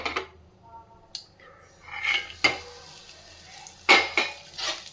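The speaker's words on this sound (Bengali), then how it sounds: "তেলের মধ্যে একটু জিরে দিয়ে দিয়েছি, আর এখানে একটু চিড়ে আর বাদাম নিয়েছি" Cumin frying in oil alongside flattened rice and peanuts, with quiet sizzling broken by several sharp spoon-and-pan clinks and scraping strokes, close up and uneven.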